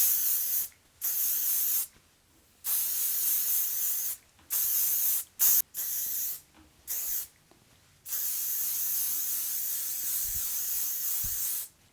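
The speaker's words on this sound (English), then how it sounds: "I'm gonna spray our thermal protection mist." Thermal protection mist sprayed onto brushed hair from a pump bottle, a series of close hissing bursts of varying length separated by short pauses, ending in one long spray.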